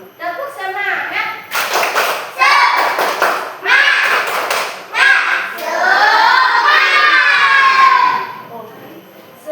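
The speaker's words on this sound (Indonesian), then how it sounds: "yuk kita tepuk semangat dulu. Tepuk semangat." Elementary schoolchildren in a classroom perform the tepuk semangat chant, loud voices in unison punctuated by bursts of rhythmic group clapping, close and lively.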